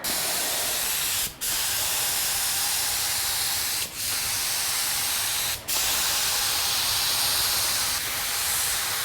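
Paint spray gun hissing loudly in long continuous bursts during a budget car respray, with three brief cut-offs between bursts and a harsh, uneven hiss suggesting a fault.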